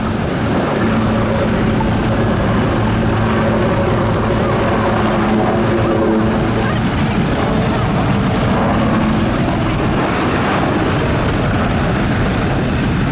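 AgustaWestland Wildcat helicopters of the Royal Navy display team fly at an air show, giving a loud, steady rotor and turbine roar that washes over the crowd without a break.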